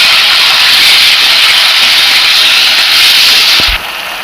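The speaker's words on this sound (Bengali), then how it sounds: "এবার আমি নাড়া দেবো।" Ginger-garlic paste, onion paste, tomato and spices fry in hot oil in a pan for mutton curry, making a loud, steady, close sizzling hiss that drops away abruptly near the end.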